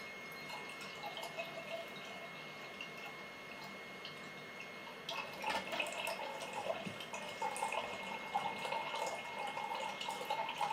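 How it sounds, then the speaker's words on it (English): Draught beer from a Beer Monster home draught machine pouring into a glass, a soft hissing, bubbling trickle that grows fuller and louder partway through as the pour increases. "The beer is now being forced into the glass."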